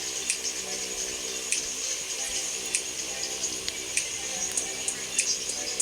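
Swimming in water in the Roblox Brookhaven video game produces a continuous watery splashing loop with small rhythmic bursts, steady and moderately loud with no voices over it.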